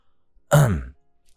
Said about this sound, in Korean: 제가 크게 헛기침을 하며 다가갔는데요